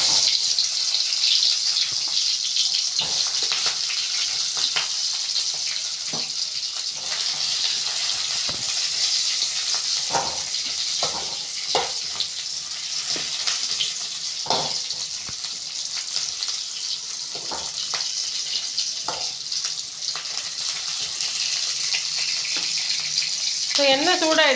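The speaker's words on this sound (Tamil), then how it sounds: "எண்ணெய் சூடாகிடுச்சு இல்லையா, அதனால் வந்து அதில் வெங்காயம், காஞ்ச மிளகாய் எல்லாத்தையும் போட்டுரும்." Onion and dried chillies sizzle in hot oil for a tomato chutney, a loud, continuous hiss and crackle with scattered sharp pops and occasional stirring clinks.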